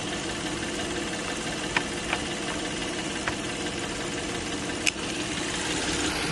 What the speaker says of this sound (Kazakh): Таза, жақсы істеп тұр мотор.